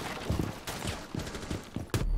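Gunfire from the video game Rainbow Six Siege, several sharp broadband shots spread over about two seconds, a cluster near the middle and a louder burst at the end, with faint game ambience between them.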